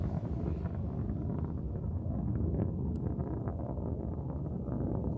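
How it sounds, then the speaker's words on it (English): Blue Origin New Shepard's BE-3 rocket engine rumbles during launch toward max Q, heard from far off in West Texas as a continuous low, muffled roar with wind-like texture. "that BE-3 engine rumble really coming through as the vehicle approaches the maximum dynamic pressure"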